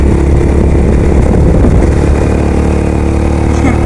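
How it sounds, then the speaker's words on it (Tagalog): A motorcycle engine runs steady and loud close by at a farm near a tobacco plantation in Misamis Oriental, a continuous low idle drone throughout. "Yun na ang motor."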